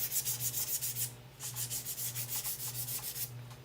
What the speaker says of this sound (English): let's sand this a little bit